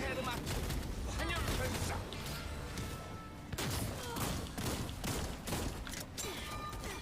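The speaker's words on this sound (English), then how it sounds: "Because these marbles explode." Explosions of bursting marbles during a Brelshaza Legion Raid in the online game Lost Ark, a dense, loud barrage of overlapping blasts and crackling impacts layered with game effects and continuous talk over the top.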